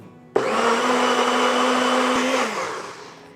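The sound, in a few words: blender grinding rusk biscuits and milk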